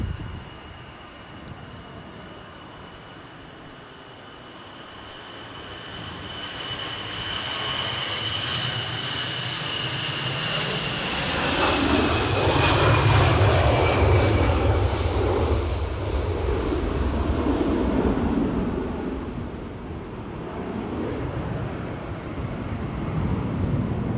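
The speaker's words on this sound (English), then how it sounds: "right now you're watching an EasyJet A320 hurtling down the runway pre-departure" An EasyJet Airbus A320 accelerates down the runway for takeoff at Edinburgh Airport in strong wind, its jet roar swelling from a distant rumble to a loud peak midway and then easing, with gusty wind noise over the microphone.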